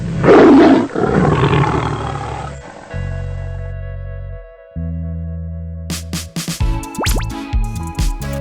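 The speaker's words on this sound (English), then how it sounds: "Tiger." A tiger's roar rises loud and rough at the start and fades out, followed by stretches of steady electronic music tones and bright, sharp synthetic sound effects with no talking.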